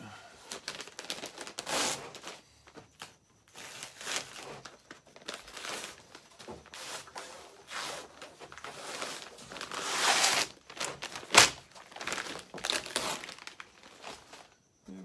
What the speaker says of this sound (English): the idea is to very carefully remove the peel ply without taking the glass or demolding